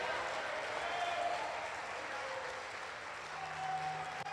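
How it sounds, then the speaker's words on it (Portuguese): Church congregation applauding during a worship service, steady dense clapping throughout at moderate distance, with faint voices mixed underneath. "dá um forte aplauso e um glória a Deus aí"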